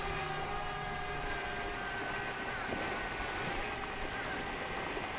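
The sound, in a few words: DJI Mavic Mini drone flying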